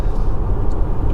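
A Skoda Superb 1.4 TSI Sportline's small four-cylinder engine runs with a rough, loud, low, steady rumble for a brief moment, heard alone.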